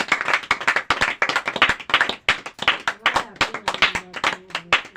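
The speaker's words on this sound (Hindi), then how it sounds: "जोर से ताली बजा के तारीफ करेंगे प्रभु की" A church congregation at a collective prayer meeting claps loudly in praise, a dense run of sharp, fast handclaps filling five seconds, with voices calling out over the clapping.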